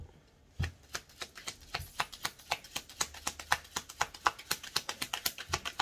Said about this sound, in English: I want to keep shuffling.